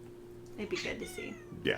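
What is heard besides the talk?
cat meowing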